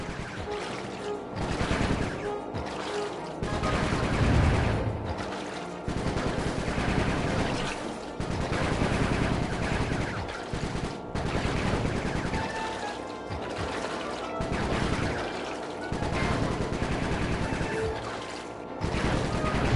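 Rapid gunfire in the Sly 3 video game, playing on a PS5, with long bursts of machine-gun style shooting mixed with crashes and impacts, dense and loud throughout with brief gaps between volleys.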